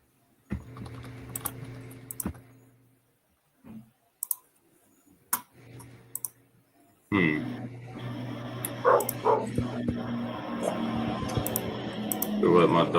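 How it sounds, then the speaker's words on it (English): A dog barks a few times indoors, sharp and fairly close, while keyboard typing and clicking carry on and people talk over it. "Go let my dog outside."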